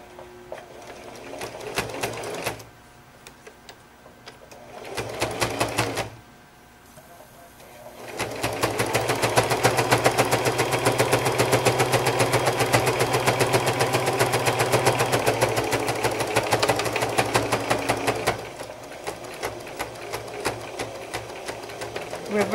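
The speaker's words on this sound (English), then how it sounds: "And this machine doesn't want to stitch as good as my other one." A sewing machine stitches quilt fabric for a ragtime quilt in short bursts, then a long steady run of fast, even stitching up close, with brief pauses between; no talking during the stitching.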